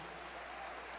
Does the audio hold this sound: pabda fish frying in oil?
no